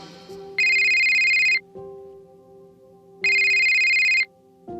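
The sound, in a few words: mobile phone ringtone, incoming call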